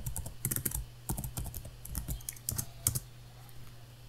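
Code being typed on a computer keyboard, irregular bursts of crisp key clicks with brief pauses, close and fairly quiet, no voices.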